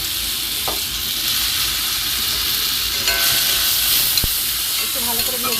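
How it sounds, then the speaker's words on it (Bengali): Grated raw mango sizzles loudly in a pan of hot tempered spices for a chutney, with a constant frying hiss and a few sharp scrapes and taps of a stirring spoon. "একটু ভালো করে ভেজে নেব।"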